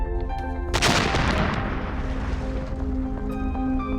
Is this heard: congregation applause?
no